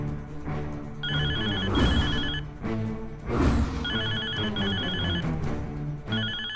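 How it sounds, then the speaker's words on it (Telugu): A landline telephone rings indoors in repeated electronic bursts of rapid trilling tones with short gaps between them, loud and close over a musical background. "ఒకవేళ రాస్కెల్ ల్యాండ్ లైన్ కి ఫోన్ చేశాడేమో. త్వరగా లిఫ్ట్ చేయి"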